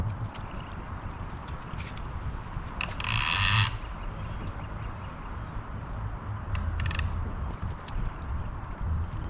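A ratchet tie-down strap is cinched down to secure a heavy fishing kayak on a car's factory roof rack, giving two short bursts of clicking over quiet outdoor background.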